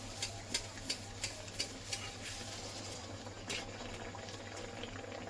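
Bengali jackfruit fritters (kathaler bora) frying in hot oil, with oil spooned over them from the side: a quiet, steady bubbling hiss broken by a few light ticking clicks, close and faint.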